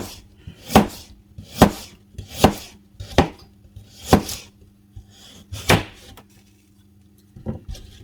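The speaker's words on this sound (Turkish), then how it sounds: "Biz geçelim patateslerimizi doğramaya." A knife chops potatoes on a cutting board in sharp, separate strikes, about eight evenly spaced thuds, close and crisp with quiet pauses between.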